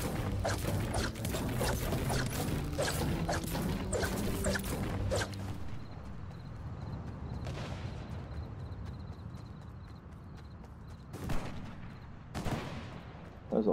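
Gunfire in the Fortnite video game, a rapid cluster of sharp shots in the opening seconds, then quieter background with a few isolated loud cracks later on.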